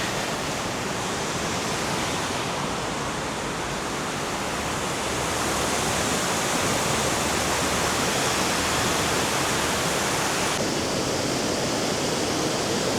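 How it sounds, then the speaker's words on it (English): The River Dee rushes loudly beneath a bridge in Llangollen, swollen by heavy rain, a dense, thundering roar of water that stays constant and close throughout. "I don't know if you can hear me above that water noise. It's absolutely thundering."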